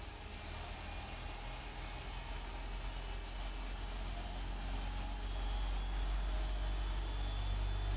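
Boeing 777 jet engines starting up in the PMDG flight simulator, a continuous loud roar with rising high-pitched turbine whines that grows slightly stronger toward the end.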